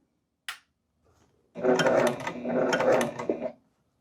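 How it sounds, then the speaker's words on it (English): A sewing machine stitches a dart on a woven dress, running in a close, steady whir for about two seconds after a brief click, with a slight dip in speed midway. "we're going to sew right off the fabric at the end, at the very tip of that dart"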